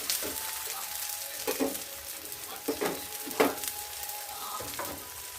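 A dosa crackles and sizzles on a hot griddle while a spatula scrapes and taps the pan a few times to turn it over, with no voices.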